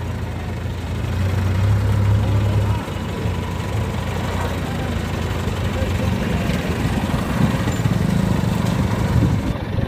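A crane engine in Tirunelveli hauls an uprooted neem tree with a loud, steady droning rumble that carries through the whole stretch, while voices murmur faintly nearby.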